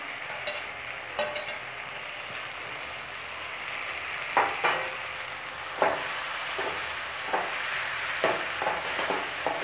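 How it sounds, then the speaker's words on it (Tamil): Onions sautéing in a pan for a brinjal kuzhambu curry give a soft, steady sizzle, broken every second or so by scraping stirs of a spoon, with no talking. "இப்போ நல்ல வெங்காயம் நல்லா வதங்கிருச்சு"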